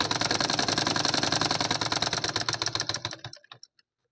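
A sewing machine stitching a cotton lining blouse runs in a rapid, even train of mechanical pulses, then slows over the final second and clicks to a stop. It is close and fairly loud, with no voices.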